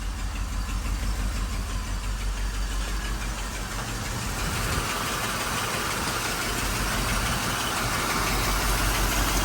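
A 1985 Mercedes 500SEC engine idles low with a misfire, a steady close rumble broken by uneven ticking and knocking pulses that continue without a break.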